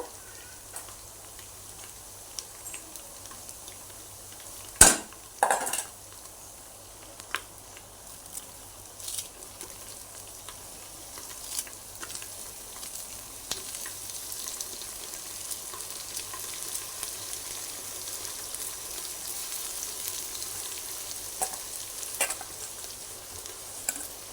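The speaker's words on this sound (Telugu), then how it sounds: "ఉల్లిపాయ ఇట్లా వేగినాక మంచిగా వెర్రగా వేగింది కదండి" Onions sizzling and frying in a pan for a Telangana-style goat head curry, a steady soft crackle broken by a few sharp clatters of stirring near the start and occasional pops.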